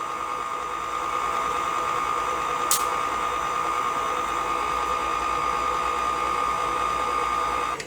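Electric mixer blending pecan pie cheesecake batter, a steady continuous motor whir holding an even level throughout, close and moderately loud with no talking.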